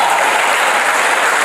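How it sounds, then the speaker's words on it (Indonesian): A church congregation bursts into steady, dense hand clapping that fills the whole moment, loud and close with no voices over it. "Berarti tepuk tangan dulu ini supaya."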